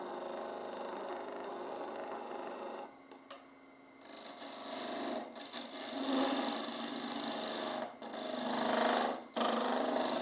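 A dull wood lathe tool chatters against a turning bud vase, a quiet rasping scrape that cuts out briefly several times and then resumes.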